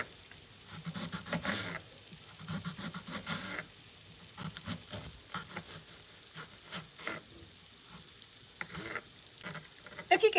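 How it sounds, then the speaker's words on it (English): Kitchen knife finely slicing an onion on a chopping board, a rapid run of soft taps and crisp cuts with short pauses in between, close and fairly quiet. "we're going to finely slice it using our claw grip"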